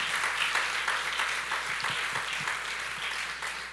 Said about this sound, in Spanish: Apláudale al Señor.